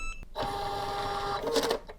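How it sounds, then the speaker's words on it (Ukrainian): Receipt printer at a store checkout register running an Odoo point-of-sale setup: a short beep, then a steady close-up whirring buzz of the receipt printing for about a second and a half. "і в нас автоматично друкується чек"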